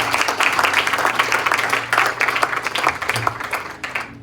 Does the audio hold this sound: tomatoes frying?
no